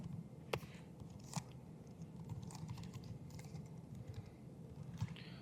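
Fast, irregular clicking of keys on a computer keyboard while code is entered, soft and close, with a steady low background hum and no talk.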